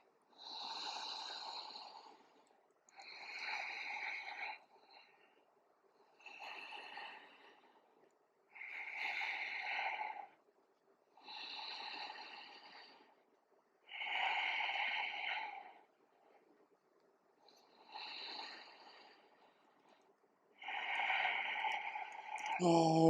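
Slow, deep breaths taken during a whole-body mobility stretch, about eight long airy inhale-exhale swells spaced evenly across the stretch, close and fairly quiet with no talking.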